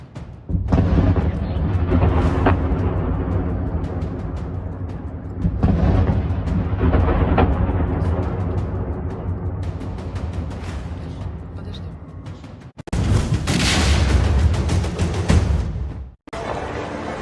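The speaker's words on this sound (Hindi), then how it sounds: "एक के बाद एक कई धमाकों से सहमे लोग" Repeated loud booms and rumbling blasts from Russian attacks on Kyiv, Ukraine, rolling on in sustained waves with a brief gap before another powerful burst near the end; no speech.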